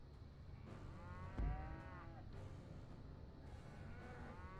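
Cattle mooing in the Rock of Ages video game, several drawn-out moos overlapping against a steady rumbling game background, with a brief thump partway through.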